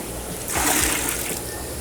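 Water from an overfull guppy tank pours and splashes in a short burst, swelling in the middle before easing back to a trickle, close by and without speech.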